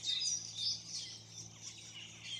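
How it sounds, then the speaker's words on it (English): Birds chirp and call continuously from a tree beside Coronation Drive in Innisfail, Australia, a faint overlapping chorus of high tweets heard at a distance. "So there's that tree with all the birds and that in it."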